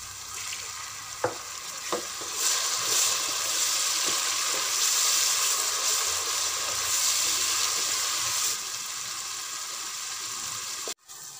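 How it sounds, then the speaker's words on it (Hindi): Tomatoes with a splash of water sizzle and bubble in a pan for mince pulao, a steady loud frying hiss with occasional stirring clicks and scrapes throughout. "टमाटर गलाने के लिए थोड़ा सा पानी डाल देंगे"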